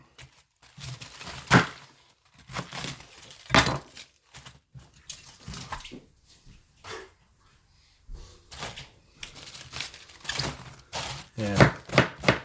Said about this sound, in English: get this cabbage shredded up